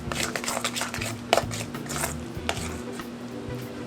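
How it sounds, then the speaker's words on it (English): Ricotta cheese is stirred with salt and black pepper in a bowl, producing a close, steady run of soft scraping and tapping from the spoon, with one sharper knock partway through. "So I'm just gonna give this a simple little mix."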